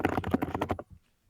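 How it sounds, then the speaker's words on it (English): Fast typing on a computer keyboard during a coding interview: a dense run of close, loud key clicks that stops abruptly, leaving near silence. "Your typing is louder than your voice for some reason."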